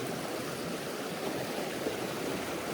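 Creek water rushes in a steady, unbroken hiss and gurgle, moderately loud and close, with no voices.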